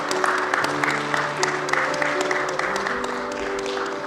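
Scattered clapping follows the introduction of Gyeongbuk's top men's cycling team at a school sports awards ceremony. Sharp individual claps sound over steady background music, moderately loud and uneven.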